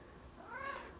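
A male house cat gives a single short meow, faint and close, indoors at home with quiet room noise and no talking.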